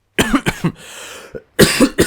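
Several harsh coughs, close and loud, in two bursts separated by a brief pause with faint breathy sound between them.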